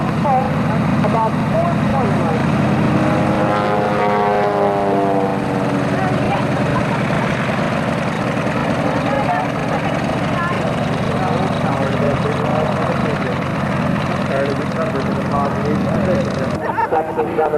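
At a 1991 air fair in Kissimmee, Florida, a propeller aircraft flies a stunt display, including backward flight. Its engine drones steadily and loudly, rising and falling in pitch, while a commentator talks over it.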